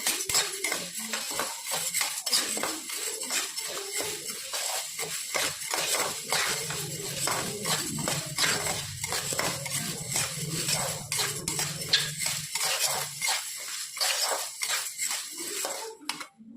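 Wheat grains are stirred while roasting in a pan, making a dense, continuous rattle and clatter of spoon and grains against metal, close and fairly loud, with a low hum underneath during the middle.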